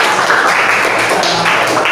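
A classroom of students applauding a study group: a steady wash of dense clapping, fairly loud and close, lasting the whole moment without clear pauses.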